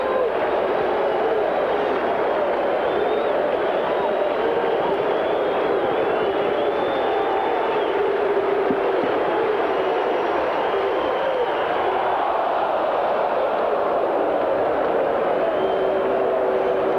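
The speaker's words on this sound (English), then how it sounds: "Oh, I'd love to hear a well-behaved, roaring crowd." Big crowd roar at a 1986 Toronto at Boston baseball game at Fenway, a broad, steady wash of cheering that runs unbroken through the whole stretch at a constant loudness.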